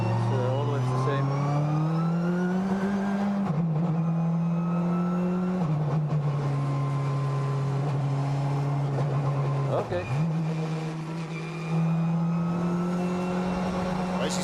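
Touring race cars at Sonoma during WTCC qualifying, a loud engine note climbing through the gears with repeated shift drops, a queue of cars close by, and a brief spoken word over it.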